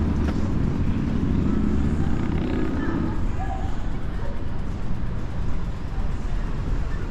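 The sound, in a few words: Harley Davidson motorcycle passing behind cyclist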